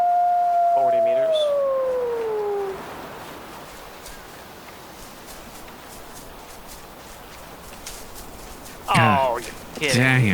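Wolves howling in the wild, a pair of drawn-out descending howls early on fading into quiet background, followed by people talking close by near the end.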